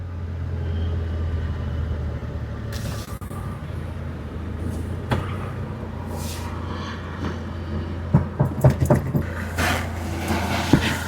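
A 2012 Hyundai i20 diesel car is heard from inside while driving, with a steady low engine and road rumble throughout and a few knocks and rattles toward the end.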